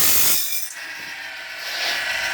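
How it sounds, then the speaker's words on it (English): A Woodland Mills band saw blade sharpener grinds a tooth, a steady, close, high-pitched grinding whine with a brief lull partway through before it rises again. "Try to get a little close up of it actually grinding the tooth."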